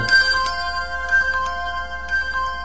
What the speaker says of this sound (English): Oh, I'm getting a phone.